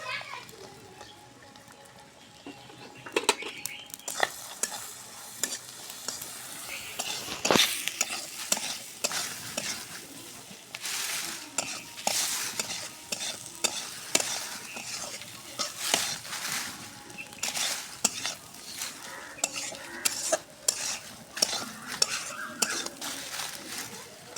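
Garlic cloves and chopped onion fry in a pan with a persistent sizzle, punctuated by frequent scraping and clattering of a stirring utensil, with faint background voices.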